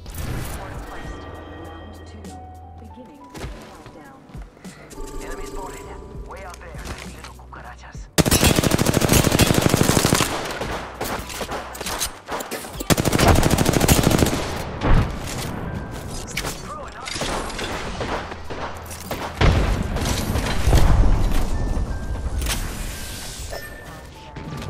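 Loud bursts of charge rifle fire and other gunfire erupt during an Apex Legends match, heavy shots and booms clustered in intense stretches over continuous game sound, with a voice speaking throughout.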